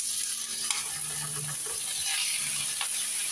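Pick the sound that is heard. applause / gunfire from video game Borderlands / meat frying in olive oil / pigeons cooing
meat frying in olive oil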